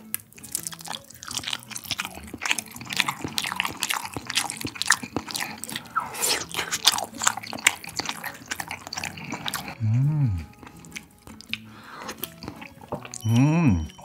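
Close, wet chewing and slurping of Spam with jumbo cup ramen, with soft bites and broth sounds followed by a couple of short hums of approval from the eater.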